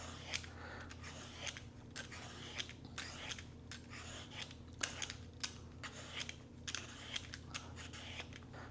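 Ripe mangoes being peeled for a sweet and spicy mango chutney: a series of short, close scraping strokes in an irregular rhythm, moderately quiet and with no talking.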